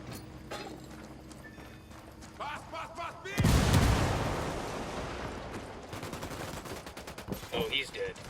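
A gunshot rings out in the tactical shooter Ghost Recon Wildlands: one loud, sharp report with a long rumbling tail. Softer clicks and mechanical sounds come before and after it, and squad members speak over the scene.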